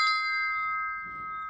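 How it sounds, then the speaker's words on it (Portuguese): A bell used for calling horses gives one clear ring that hangs and slowly fades, loud and close, with no talk over it. "Esse sino aqui, ó"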